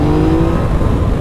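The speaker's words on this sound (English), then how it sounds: "Am I revving this bike up too high or something?" A 2017 Yamaha FZ-09 (MT-09) motorcycle engine revs hard while riding, giving a loud, continuous, close engine roar with a sustained droning tone and no talk.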